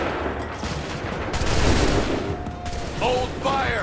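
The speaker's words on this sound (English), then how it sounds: "Make ready! Open fire!" Musket volley fire in the Assassin's Creed 3 video game: a dense, booming crackle of many shots blended together, followed by softer rattling and distant tones.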